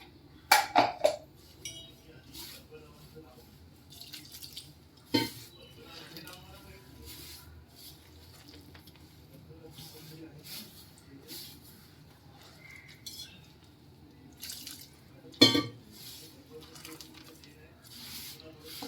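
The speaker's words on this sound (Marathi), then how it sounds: "इथे मिक्सर धुवून घेऊया आपण." A mixer grinder jar is rinsed with water in a home kitchen during paratha preparation, giving sharp clinks and knocks of the jar at the start and midway with soft splashing and someone talking over it.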